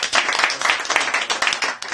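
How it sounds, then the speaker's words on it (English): Several people on a podcast clap close to the microphone, making an uneven burst of sharp, loud claps in a loose rhythm that continues for a couple of seconds. "Clap it up one time for John"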